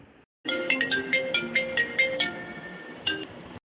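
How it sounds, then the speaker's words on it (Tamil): A mobile phone ringtone plays a loud, bright melodic phrase of repeating tones, pausing briefly before starting again, with no other sound around it. "ஒரு நிமிஷம் இருங்க எனக்கு ஃபோன் அடிக்குது"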